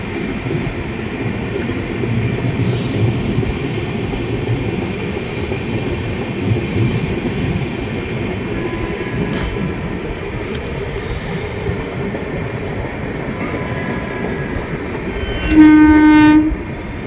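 The 12883 Rupasi Bangla Express rolls along the rails near Garhbeta with a loud, continuous rumbling roar, and a short horn blast sounds near the end.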